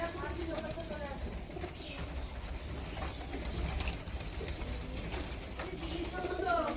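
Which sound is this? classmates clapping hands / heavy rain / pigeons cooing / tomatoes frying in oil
pigeons cooing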